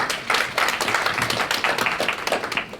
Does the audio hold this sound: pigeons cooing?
no